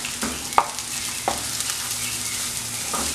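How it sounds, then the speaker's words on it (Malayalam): Chopped onion and green chilies sauté in a pan, a continuous close sizzle with several sharp scrapes and taps of a spatula stirring them, and no voices. "ഇതെല്ലാം കൂടെ ഇതിനകത്തേക്ക് ചേർത്തിട്ട് നന്നായിട്ടൊന്ന് വഴറ്റിയെടുക്കാം."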